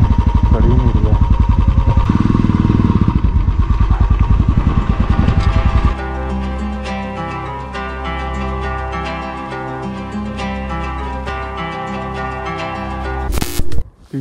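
A motorcycle on a steep mountain road between Pin Valley and Kaza in Spiti labours uphill. The engine roars loudly and strains, then drops to a quieter, steady idle.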